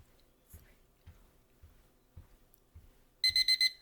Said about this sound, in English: I'm going to start the timer.